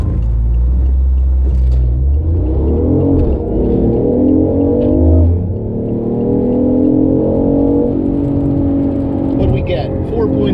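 A BMW i8 running on race gas accelerates hard on a hot road, its engine rising in pitch through several gear shifts in a loud, close drone, with brief speech over it.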